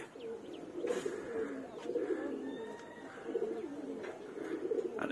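Pigeons coo on a rooftop by their nest boxes in soft, repeated, throaty phrases, close by and fairly quiet, with a few faint chirps.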